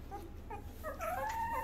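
Two-week-old Rottweiler puppies whimper and howl with thin, rising high-pitched cries that overlap and swell toward the end, heard fairly close against a quiet room.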